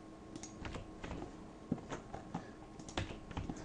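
Soft, irregular keystrokes on a computer keyboard while working in Substance Designer, quiet and close, with scattered clicks and brief pauses between bursts of typing.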